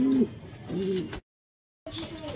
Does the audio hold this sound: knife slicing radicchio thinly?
no